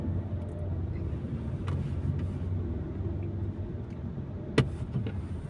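Steady street traffic rumbles in Quezon City outside an Iglesia ni Cristo church, with a continuous low drone of passing vehicles, a faint horn-like tone and one sharp knock near the end, and no speech.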